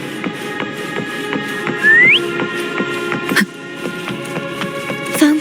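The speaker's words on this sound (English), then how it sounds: "Why don't you call Foam over? Try whistling." A game character in Wuthering Waves whistles once to call Foam: a short rising whistle over a busy, rhythmic game soundtrack, then a brief break in the music.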